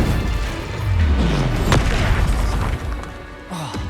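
Incendio fire spell cast in Hogwarts Legacy, a loud booming burst of flame with a rumbling low roar and a short whooshing sweep, followed by crackling combat noise.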